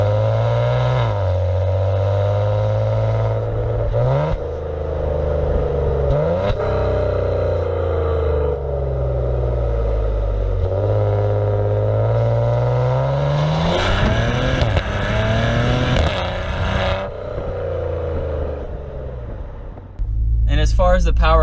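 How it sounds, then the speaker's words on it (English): A 2016 Maserati Ghibli S Q4 revs and pulls through the gears, its exhaust note rising and falling in long sweeps, with bursts of crackling and popping on the downshifts near the middle and at the end. "It cracks and pops"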